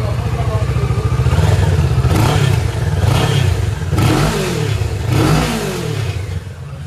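A used Kawasaki Ninja motorcycle at a second-hand bike market in Pune, Maharashtra, revs loudly and close by, its engine note rising and falling in several surges over a steady idle rumble.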